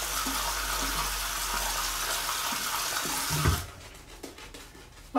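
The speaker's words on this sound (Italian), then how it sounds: "quindi l'acqua, se vedete che la lascio scorrere, non è perché sono uno sprecone" Cold tap water running steadily into a bathroom sink during a wet shave with a safety razor and shaving stick, continuous splashing flow that cuts off abruptly partway through, leaving faint handling noises.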